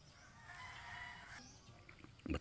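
Backyard chickens call faintly in the distance, with clucking and crowing that stay quiet under a low background hum, and a brief louder knock near the end.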